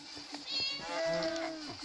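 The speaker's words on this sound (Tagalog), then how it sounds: "May pusa." A cat meowing in a Minecraft video game: a drawn-out, wavering meow rising and falling over about a second, fairly quiet, with a few faint game clicks around it.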